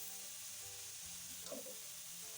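Vegetables stir-frying on high heat with soy sauce and chili sauce for vegetable samosa filling, a steady close sizzle and hiss with a brief stirring scrape midway, no talking.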